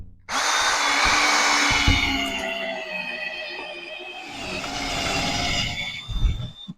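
A power drill bores straight through drywall inside an off-grid cabin, a loud sustained whine running about six seconds with a brief dip midway and a short clatter at the end.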